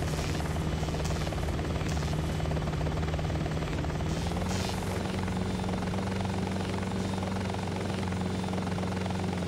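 Apache attack helicopter in the Hostile Waters: Antaeus Rising video game, a steady loud rotor drone with a constant low hum that shifts slightly in pitch partway through and runs unbroken for the whole stretch.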